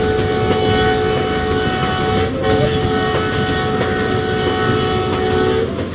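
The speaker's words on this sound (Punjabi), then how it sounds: "ਜਾ ਰਹੀ ਹੈ ਗੱਡੀ ਬਹੁਤ ਸਪੀਡ ਹੈ" A Pakistani local train running from Lahore to Shorkot rushes past loudly and steadily at high speed, with a continuous roar, rattling clatter and sustained tonal horn-like notes throughout.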